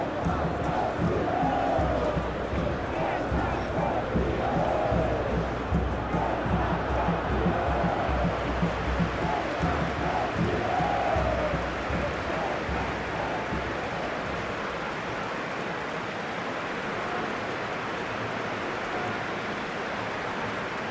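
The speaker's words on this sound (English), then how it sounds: "Crowd rises for the national anthem of Germany." A large stadium crowd in the eFootball PES 2021 football game roars and chants continuously ahead of a Brazil versus Germany World Cup final, with swelling cheers in the first half before settling into a steadier hum.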